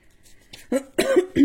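A person coughs a few times in quick succession, close and fairly loud, after a soft breathy intake.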